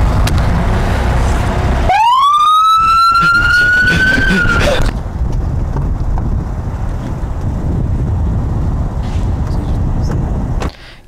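A police car siren winds up into a rising wail, holds briefly, then cuts off, heard outdoors amid heavy wind buffeting on the microphone that continues afterward.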